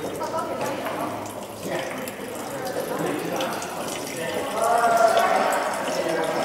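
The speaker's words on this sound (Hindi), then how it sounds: "पानी डालने का स्टाइल देखें, कितना डेलिकेसी है।" Water trickles and splashes gently as it is poured for Xinyang Maojian tea, a soft, continuous flow that swells slightly toward the end, with people talking nearby throughout.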